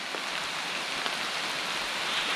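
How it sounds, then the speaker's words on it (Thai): Steady rain hisses down on a surface in a forest, a dense even patter with occasional louder drops, no voices. "โอ้ฝนตกแล้วป่ะเนาะ โอ้ฝนตกขนาดนี้"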